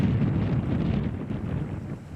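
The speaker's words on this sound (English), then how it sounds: "And the wind, of course, ripping." Strong wind roars across an outdoor disc golf course during a tournament round, a loud, continuous rumbling buffet against the microphone with no voices.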